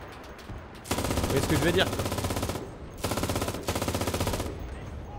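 A machine gun in the WWII shooter Enlisted fires two long bursts of rapid rattling shots, loud and close, with someone speaking briefly between them.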